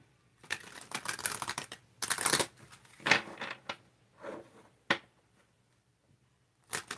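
Cards are shuffled and riffled close up in a few quick, crisp bursts with short pauses, then a couple of sharp single snaps.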